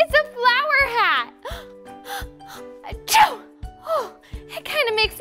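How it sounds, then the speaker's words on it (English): A voice talks animatedly, then gives a loud sneeze in the middle, with soft musical notes underneath. "Oh, it kind of makes me sneeze."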